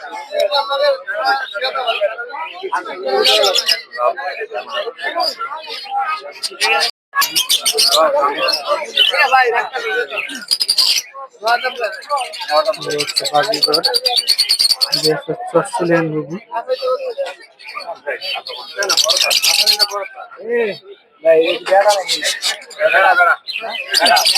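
At the Putia bird and pigeon market, caged diamond doves and lovebirds chirp and twitter in thin bursts beneath a man's almost continuous nearby talk, with occasional metallic clinks.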